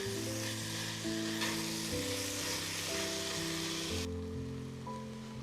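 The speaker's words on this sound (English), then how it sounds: "Next, we add our onions and the peppers, and we cook them until they're wilted and done to your liking." Onions and peppers frying in a pan, a continuous dense sizzle held steady throughout, close and even, with a faint tonal hum running underneath and no voices.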